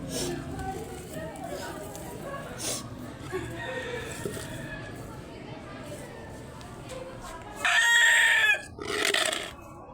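A flock of turkeys calls as a new bird joins them, with scattered clucks and chatter building to a loud, harmonic gobbling burst near the end, while people talk over the birds.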